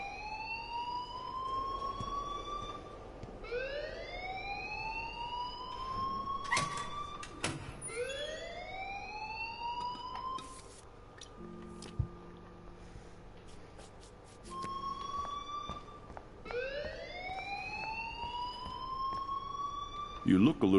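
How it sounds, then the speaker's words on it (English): Alarm in the Life is Strange video game wails in repeated rising sweeps, each climbing and then cutting off, cycling steadily for about twenty seconds with brief gaps and a few knocks between. "please turn off that alarm since that's your job"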